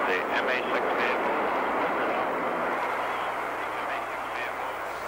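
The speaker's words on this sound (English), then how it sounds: "5, 4, 3, 2, 1, 0, ignition, liftoff, the MA-6 vehicle." The Mercury-Atlas MA-6 rocket lifts off with a steady, broad roar that fills the whole stretch and fades only slightly toward the end. No other sound stands out over it.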